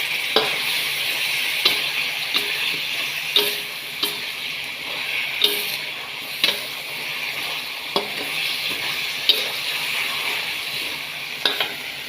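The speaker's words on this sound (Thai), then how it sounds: "ถึงเครื่องเรียบร้อยแล้วก็ผัดให้แห้งนะคะ ผัดพอให้แห้ง" Chinese kale and minced pork stir-fried in a pan until dry, a steady loud sizzle with regular scraping strokes of a spatula every second or so, no voices.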